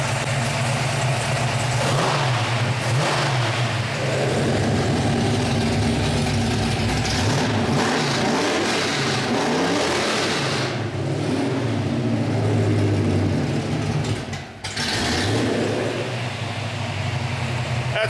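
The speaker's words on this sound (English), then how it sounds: "So my dad's in the car now and starting this thing up" A 1972 Plymouth Hemi Cuda V8 engine rumbles loudly nearby, idling with a deep throb and rising into several throaty revs, no talking.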